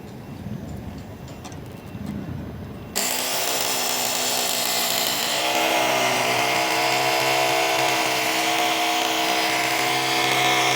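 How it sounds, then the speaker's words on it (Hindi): Power drill with a masonry bit boring a hole for a rawl bolt during a solar panel installation, a steady loud whine running continuously after a brief start, close and alone without talk. "अब हम पहले इसको करेंगे ड्रिल।"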